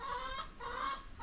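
Chickens clucking close by, a few birds giving short repeated calls in two bursts across a little over a second, steady and fairly loud with no voices.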